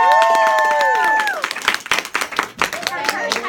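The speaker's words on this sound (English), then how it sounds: "Seriously, give her a huge round of applause." Audience claps and cheers for a first-time speaker at a dealership staff event, the applause breaking out after a voice fades and continuing in uneven bursts while talk and chatter mix in near the end.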